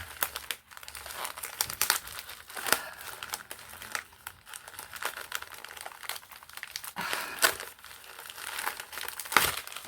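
Plastic packaging from a picking haul being torn and crinkled open by hand, with steady crackly rustling and a few sharper rips spread over the whole stretch, fairly close and moderately quiet with no talk.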